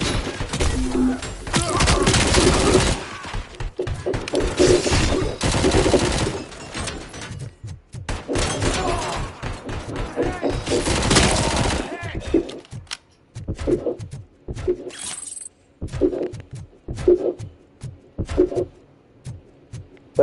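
Gunfire and impacts from the video game Robocop Rogue City, loud bursts of shots and crashing hits dominating the first half, then sparser, punchy shots and thuds spaced out over quieter game sound.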